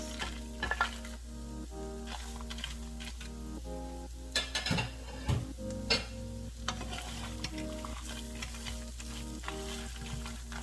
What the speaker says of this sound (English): we're going to fry these up for just a couple minutes until they get nice and soft